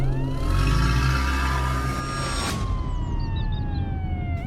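A police car siren wails loudly and close by, its rising and falling tone sweeping steadily over engine rumble as the vehicle pulls up outside a house in a village.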